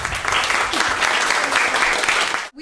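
Loud, close audience applause at a semiotics festival event, packed and continuous, breaking off abruptly near the end.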